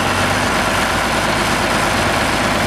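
A tractor engine runs steadily with a number 55 IH plow hitched behind, a continuous loud, low rumbling drone close by with no talk over it.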